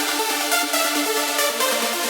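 Layered trance synth main leads play from a Cubase project, a bright, pulsing rhythmic pattern with plucked, stuttering notes. The playback is steady and alone, with no speech.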